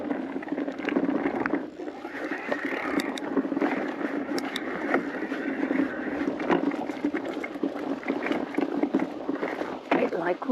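An electric mountain bike rolls along a wet, rocky gravel track on Skiddaw in the Lake District, its tyres splashing and rumbling through a shallow stream in a steady, continuous wash of noise.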